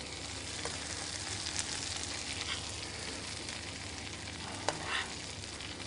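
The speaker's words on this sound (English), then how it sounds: "I sort of baste the fish with it" Hapuku fish sizzling softly in a pan as melted butter is spooned over it, a constant gentle crackle with a couple of faint utensil clinks, no voices.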